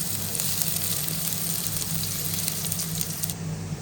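Garlic sizzles in a hot pan for beef sinigang, a dense, steady crackling hiss holding at an even level throughout with no talk.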